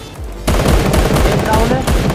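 Video game gunfire in a tournament match, a dense run of loud shots starting abruptly and continuing as rapid overlapping bursts, with a voice talking over them.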